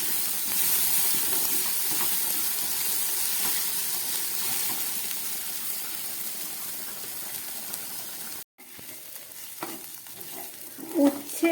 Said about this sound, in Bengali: পেঁয়াজের সঙ্গে উচ্ছেটাকে আমি একদম গ্যাস কমিয়ে ভেজে নেব।